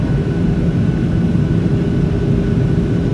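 Inside an airliner cabin on approach to Houston, a steady, loud low roar of the engines fills the whole clip without a break.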